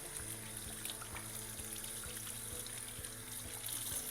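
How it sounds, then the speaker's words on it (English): Faint, steady running water from a tap as hands are washed, a continuous soft splashing close by with no voices. "I'm going to wash my hands real quick."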